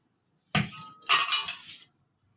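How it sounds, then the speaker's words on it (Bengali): Pieces of bhangor fish rubbed with salt and turmeric go into hot oil in a wok, setting off two short, sharp bursts of crackling sizzle at close range before falling quiet. "কড়াতে আমি মাছ দিয়ে দিয়েছি"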